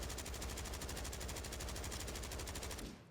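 Bruen MK9 rifle in Warzone firing one sustained full-auto burst at a firing range, rapid, evenly spaced, loud and close, cutting off abruptly near the end.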